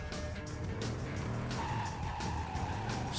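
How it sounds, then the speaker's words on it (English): Tires screech and skid as a car drifts in the Driv3r video game, its engine droning loudly underneath through the whole stretch, with no talking. "Oh man, that drifting is like proper drifting."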